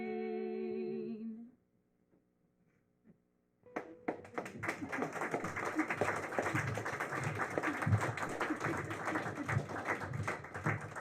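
An audience at a live radio theater show breaks into applause after a short musical tone and a quiet pause, the clapping building and continuing steadily at moderate volume for several seconds.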